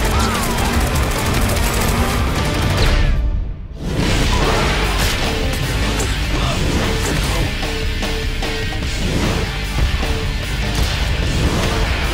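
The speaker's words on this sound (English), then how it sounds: "Shoot them, damn it!" Dense, loud gunfire from a film shootout, rapid bursts and automatic fire pounding almost continuously, broken by a brief lull before the barrage resumes.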